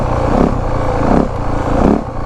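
2025 Yamaha WR 450F motorcycle engine downshifting, three loud close surges of engine roar rising and falling in quick succession over wind noise, no talking.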